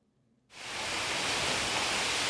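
Jeongbang Waterfall in Seogwipo pours in a steady, broad rushing roar that fades in quickly after a brief quiet moment and then holds constant and even.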